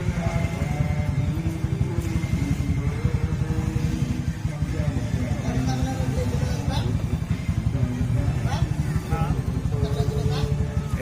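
Several motorcycles at a motorcycle club gathering in Manila rumble and rev steadily nearby as they pull out of parking, a continuous engine drone under people talking.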